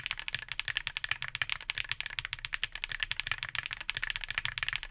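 Rapid, continuous typing on a keyboard with Hall effect switches, crisp clacky keystrokes in a fast even stream, recorded up close with nothing else audible.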